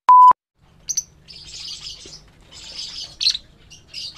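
Lovebirds chirping at a bird breeding farm: bursts of bright tweets and squawks come and go over a low hum, following a brief loud electronic beep at the start.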